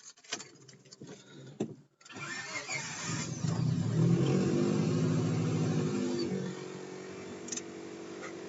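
A stock Honda Civic EM1 with a B16 engine cranks, catches and starts, then revs up loudly before settling into a steady idle; a few clicks and thumps are heard before it starts.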